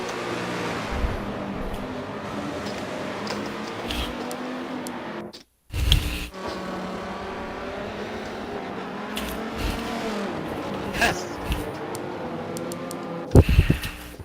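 GT race cars from a sim racing endurance championship, including a Corvette and a Ford, roar past with a steady engine drone, with louder surges as they go by near the end.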